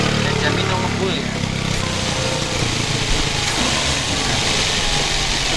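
A Daihatsu Gran Max 1.5 engine idling smoothly, a steady low rumble held close by throughout, with a voice talking over it.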